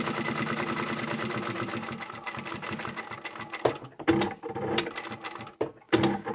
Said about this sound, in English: I take everything to the machine, fold it as I go over there. It saves a fair bit of time. I'll just start by sewing down one long edge.